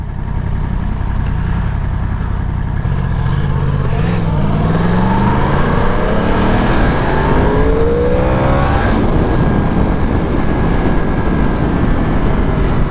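A Yamaha R1 sport motorcycle at highway speed drones loudly and continuously, engine pitch rising and falling through acceleration with heavy wind rush over the rider.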